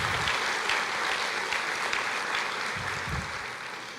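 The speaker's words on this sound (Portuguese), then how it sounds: "Você pode aplaudir o Senhor?" A church congregation applauding in praise, a steady wash of many hands clapping at moderate distance, fairly even throughout with slight swells, no voices standing out.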